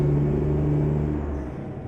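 Simulated Mack R truck engine in Euro Truck Simulator, pulling a long double trailer, humming steadily with a low harmonic drone that eases slightly as it shifts up through the gears.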